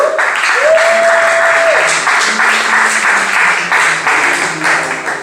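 An audience claps steadily through a slam poetry competition's opening ceremony, dense sustained applause close and loud, with a brief whistle-like tone near the start.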